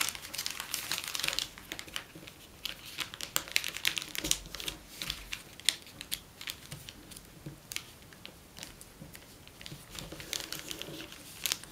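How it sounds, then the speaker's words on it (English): Paper crinkles and creases as it is folded into an origami mockingjay, a close series of soft crackling rustles and sharp crisp presses, irregular and quiet, with no talk. "Now you fold one layer from the left to the right and fold this edge to the middle crease."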